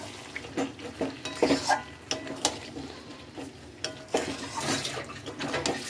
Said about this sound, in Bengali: তো এর মধ্যে এবার টক দইটা দিয়ে দেবো